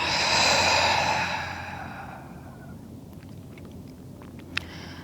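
A long breath pushed out through the mouth in a yoga session, a close, airy whoosh that fades after about two seconds into quiet room tone with a faint click near the end.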